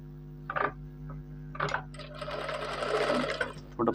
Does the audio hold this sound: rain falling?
no